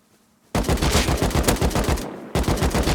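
Rapid automatic gunfire from a Rust video game while sweeping onto targets, a dense burst of close, loud shots that breaks briefly and then resumes, with no voices.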